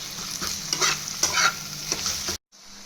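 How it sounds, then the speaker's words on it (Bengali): Ground spice paste frying with onions in a pan for a fish-head muri ghonto, a steady sizzle broken by scraping stirs and spatula taps, close and fairly loud, cut by a sudden brief silence near the end. "বাটাটা দেবো, দিয়ে পেঁয়াজের সঙ্গে কিছুক্ষণ ভাজবো।"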